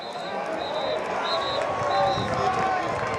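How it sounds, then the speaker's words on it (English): A stadium crowd at a college football game, Stephen F. Austin at Houston Christian, fills the air with a steady, distant roar and murmur beneath continuous commentary. "You like to have that crowd noise."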